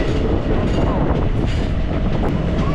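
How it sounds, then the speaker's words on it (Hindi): The Silchar–Guwahati Fast Passenger train rumbles along steadily, a loud, continuous roar of wheels and carriages heard from on board. "ये है सिलचर गुवाहाटी फास्ट पैसेंजर।"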